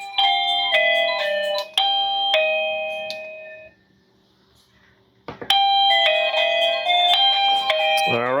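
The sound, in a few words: wireless video doorbell chime ringing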